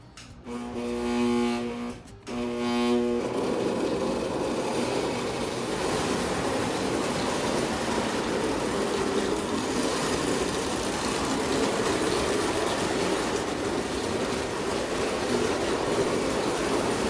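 A Marx tinplate toy train engine runs along its track, opening with a couple of brief stop-start bursts before settling into a steady, close, continuous mechanical rattle and rolling clatter with no talking.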